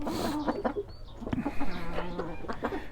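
Liven Calico chickens and a rooster on their first day in an outdoor run, with close, soft clucking and short throaty calls from several birds scattered through an intermittent farmyard chorus.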